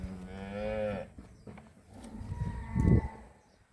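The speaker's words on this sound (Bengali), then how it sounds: "তাহলে আমরা গরুগুলো দেখছি" A Holstein Friesian cow moos twice close by on a dairy farm, a long low drawn-out call followed by another deeper, rougher moo.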